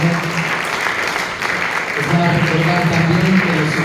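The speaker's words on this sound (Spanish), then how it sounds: "Denle un aplauso al Señor Jesucristo." Church congregation applauding during a Spanish-language worship service, a steady dense wash of clapping that swells louder partway through, with voices and shouts mixed in.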